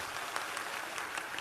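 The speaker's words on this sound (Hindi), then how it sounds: "पहले नंबर तो इन्हें ताली बजा के धन्यवाद दो।" An audience claps together in steady, dense applause that holds at an even level from start to finish, with no voices over it.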